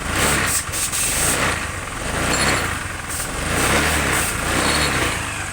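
A Honda Scoopy i automatic scooter engine runs steadily after a repair for a no-drive fault, a continuous loud idling hum with light high-pitched whine and no break throughout.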